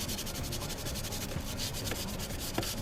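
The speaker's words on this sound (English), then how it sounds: "try and give them a wee scrub first to loosen the dirt off" Steady scrubbing of a VW Polo's car pedals during a full valet, a continuous close rasping brush-on-rubber sound with faint irregular ticks, no voices.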